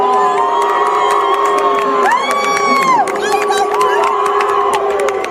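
A crowd at a track meet voices its reaction as an athlete stands on the podium, a loud, sustained mass of shouting and calling with high whooping voices rising and falling over several seconds.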